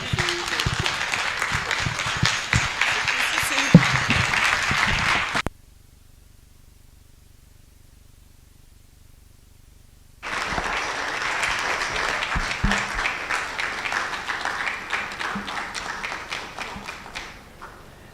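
Conference audience applause at an insurance sales event comes in two loud sustained bursts of clapping, separated by several seconds of near silence.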